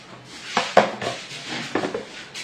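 Yogurt being stirred in a bowl for a suji mawa cake, with a few sharp clinks of a spoon against the dish amid soft scraping, close and moderately loud.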